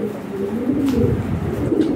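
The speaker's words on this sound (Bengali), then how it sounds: "এইগুলো অনেক কবুতর আছে, ভালো ভালো কবুতর সব এগুলো" Lahore Shirazi pigeons coo steadily at close range, a low throaty warble that continues throughout with no talk over it.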